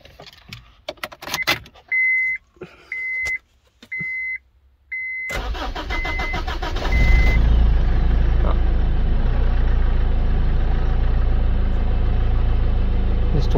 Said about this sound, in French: Normalement ça devrait démarrer direct vu que j'ai amorcé en gasoil.